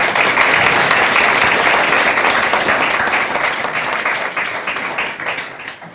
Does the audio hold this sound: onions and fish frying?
no